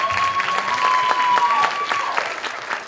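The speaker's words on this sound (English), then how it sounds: "So just big round of applause to all our amazing contestants." A university pageant audience claps and cheers for contestants, a dense, steady burst of applause close by that tapers slightly toward the end.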